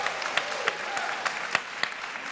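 An audience claps throughout a congressional district debate, a dense steady patter of many hands with a few sharper claps standing out.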